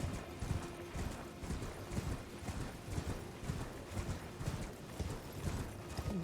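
A horse gallops in the video game Elden Ring, its hooves making a rapid, rhythmic clip-clop that is moderately quiet and continues steadily throughout.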